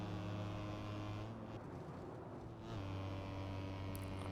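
Low, steady racing car engine drone in Assetto Corsa at the Nürburgring, with tonal hum, briefly dipping in pitch before settling back, fairly quiet and without any voices.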